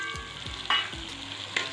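Fenugreek seeds and spices sauté in hot oil for an oil brinjal curry, a steady close sizzle with a few brief stirring scrapes and no talk.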